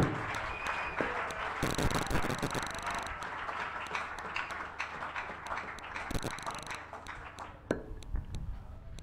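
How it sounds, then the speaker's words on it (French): Applause at a church pastoral ordination, a mix of scattered clapping and sharp taps with bursts of louder clapping, close and uneven, with faint background noise and voices. "Ça, c'est les applaudissements des bébés"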